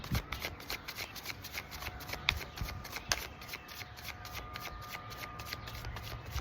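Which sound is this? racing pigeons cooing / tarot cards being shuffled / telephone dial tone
tarot cards being shuffled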